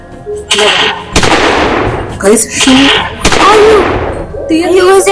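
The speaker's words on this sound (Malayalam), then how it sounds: "നീ ഷോർട്ട് ഗൺ ഒന്ന് ട്രൈ ചെയ്ത് നോക്കണോ" A shotgun fires in the horror video game Scary Doll House: two loud, close blasts with decaying tails, over near-constant excited talking.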